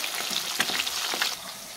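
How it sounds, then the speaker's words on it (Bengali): Pieces of Bhola sea fish fry in hot oil in a home kitchen, browning to a reddish colour; a steady, close sizzle and crackle with a few brief stirring bursts, no talking. "ভোলা মাছ একটু লাল লাল করে ভাজতে হবে"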